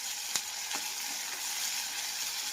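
Tempering spices sizzle in a pan for oro, a roasted aubergine dish, giving a steady close hiss with a couple of sharp pops and no talk.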